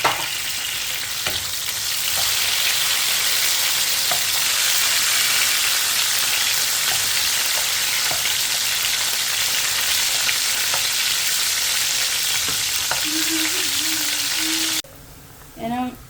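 Meat with chopped garlic fries loudly in oil, a steady dense sizzle with occasional stirring clicks, and a brief quieter gap with a voice near the end.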